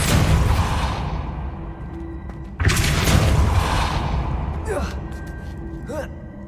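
A Depulso spell cast in the Hogwarts Legacy video game gives a loud whooshing burst over dense game sound, followed by lighter swishing effects.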